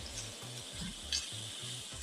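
Bhindi keema frying in ghee over a high flame, a steady close sizzle with soft stirring scrapes running throughout, and no voices.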